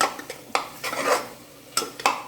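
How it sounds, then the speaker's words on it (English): Metal spoon stirring homemade biryani masala in a pan, sharp scattered scrapes and clinks against the metal, close and fairly quiet, with no talking. "So we'll give a quick stir, and then we'll add the marinated mutton."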